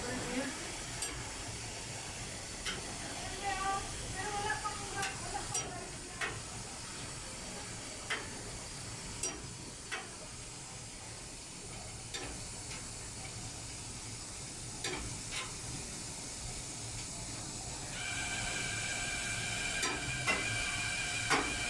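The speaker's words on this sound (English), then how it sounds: "So machine is refilling right now." Jackson commercial dishwasher refilling with water, a constant low hiss and rush of flowing water with faint periodic clicks and ticks, steady and close throughout, no talk.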